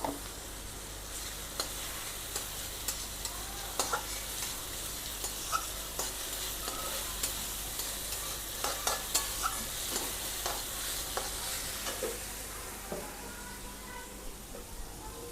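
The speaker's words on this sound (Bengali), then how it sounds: "একটু হালকা নাড়াচাড়া করব" Onion and green chilli being stirred gently in an oily frying pan for stuffed kakrol, a low steady sizzle under repeated soft scrapes and taps of the spoon, close and unhurried throughout.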